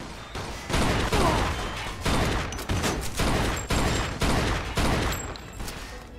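Gunfire in the video game Mafia 2 crackles in dense, repeated volleys, loud bursts of shots rattling one after another with only brief pauses.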